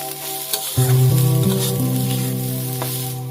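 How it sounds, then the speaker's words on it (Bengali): Turmeric, coriander and cumin powder being stirred in a hot frying pan for egg pasta, a steady close sizzle with scraping spoon strokes and a few sharp knocks against the pan, no talk. "এবার একটু পরিমাণে হলুদ গুঁড়ো একটু ধনে জিরা গুঁড়ো দিয়ে দিতে হবে এবং নাড়তে হবে ভালো করে"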